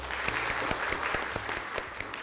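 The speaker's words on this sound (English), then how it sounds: "Please join me one more time in giving a round of applause to our 2020 Lifetime Achievement Award winner, Mr. John Devaney" Steady applause from an audience at an awards gathering for a Lifetime Achievement Award winner, many hands clapping evenly throughout, moderately loud, with no voices standing out.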